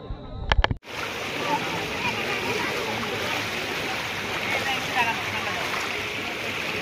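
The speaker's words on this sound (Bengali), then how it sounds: "সামনে রাস্তার উপর দিয়ে জল বইছে" Floodwater streams across a road in Shantipur, a steady, loud rushing wash that fills the scene after a brief clatter at the start.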